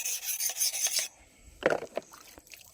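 A rubber-tapping knife drawn across a whetstone gives gritty rasping strokes, a dense burst of scraping followed after a pause by a few shorter, fainter rubs, close up with no talk.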